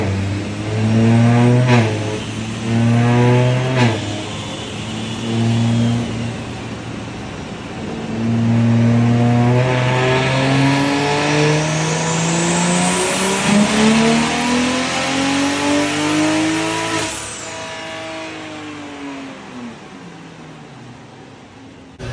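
A BMW 340i with a big turbo upgrade runs on a dyno, the engine droning and climbing steadily through a long loud pull, with turbo whine rising before it drops off abruptly near the end.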